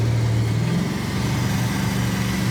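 A BMW E46 with a swapped LS V8 engine accelerates with a loud, deep, continuous engine roar close by.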